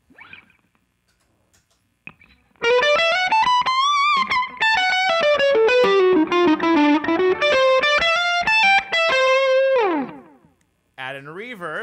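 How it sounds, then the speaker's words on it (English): After a quiet start, a distorted electric guitar plays a loud, singing melodic lead with bends, notes trailing into echoing repeats before a brief final phrase. "just amp overdrive. and delay."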